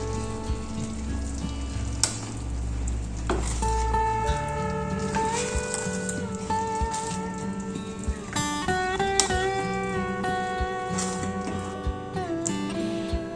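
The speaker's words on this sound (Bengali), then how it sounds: "ওপর দিয়ে দিচ্ছি একটু তরকারি। নেড়ে ছেড়ে নিচ্ছি।" Curry stirred over rice in a pot while cooking chicken pulao, with a steady close sizzle and bubbling throughout and scattered scrapes and knocks of the spoon, under music playing.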